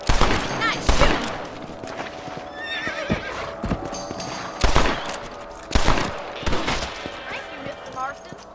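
Gunfire in Red Dead Redemption while hunting rabbits on horseback, a few sharp shots over steady hoof clip-clops, a horse whinnying, and game voices talking.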